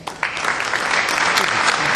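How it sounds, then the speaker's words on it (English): An audience gives the evening's inductees a final round of applause, a crowd clapping that starts abruptly and swells into a sustained, dense roar of hands at fairly close range. "Let's give all our inductees one last round of applause."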